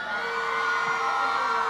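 A crowd of girls screams and cheers at a live outdoor plaza performance, a dense, loud, sustained roar of high-pitched shrieking with no clear breaks.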